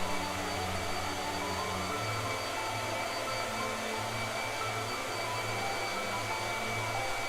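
A blow dryer runs steadily to dry paint on paper, giving a constant whooshing hum at moderate volume with a faint wavering tone throughout, no voices.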